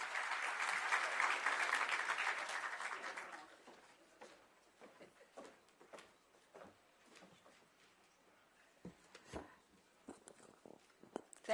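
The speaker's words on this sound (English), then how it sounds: "Please give a round of applause." Audience applause at a police service event, loud and sustained for about three seconds, then fading to scattered claps, shuffling and faint footsteps in a large hall.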